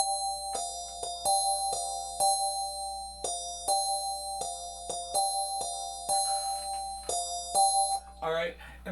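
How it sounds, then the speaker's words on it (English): Sequenced electronic music track with bell tones: sustained chiming notes struck in a steady repeating pattern over a low hum, with a short different flourish at the end. "and then some bells."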